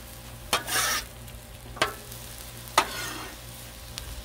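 Onion and celery frying on a Blackstone griddle: a soft background sizzle broken by three sharp spatula scrapes and stirs, each followed by a brief burst of hissing, close and alone without talk.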